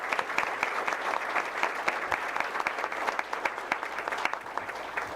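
An audience at a school board meeting applauds, with steady, moderately loud clapping and sharp individual claps standing out from the crowd.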